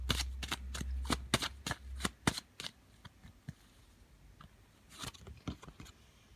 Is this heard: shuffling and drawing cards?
yes